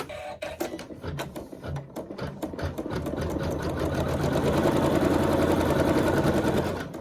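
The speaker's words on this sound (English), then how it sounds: "And then you can still leave that neutral thread in the needle. So this is nice because we don't have to change the thread very much. And we'll sew our tack down." A sewing machine stitches a tack-down seam with neutral thread, starting with a few short bursts, then running at a steady fast rhythmic whir, close and alone.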